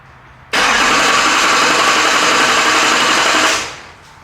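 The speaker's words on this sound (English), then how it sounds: "we're going to try and crank this thing over" A swapped Duramax diesel engine cranks over under the starter in a steady, loud whirring drone for about three seconds, then winds down, and it does not fire.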